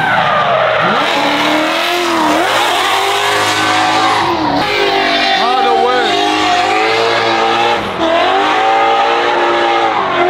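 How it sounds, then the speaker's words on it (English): V8 drift car at an event, engine revving hard and loud with repeated rising and falling pitch sweeps, tire squeal and skidding mixed in, while a voice talks over the noise. "It's familiar sights and sounds now. V8 and smoke."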